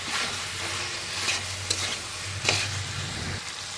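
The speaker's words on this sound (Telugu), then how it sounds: "కారపొడి సాల్ట్ బాగా ముఖకు పట్టేలాగా అలా కలపండి బాగా కలపాలి" Chicken fry being stirred with chili powder and salt in a village kitchen pan, a continuous close sizzle with scraping strokes and a few clinks, no talking.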